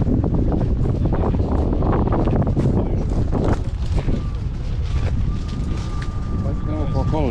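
Strong košava wind blasting across a microphone while carp fishing outdoors by the water, a loud, constant roaring buffet that goes on throughout, with voices partly buried beneath it.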